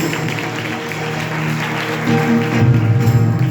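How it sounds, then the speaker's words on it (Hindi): A church congregation at Sunday worship applauds loudly, a dense sustained wash of clapping that swells louder toward the end, with music or voices humming underneath. "जोरदार तालियां, जोरदार तालियां।"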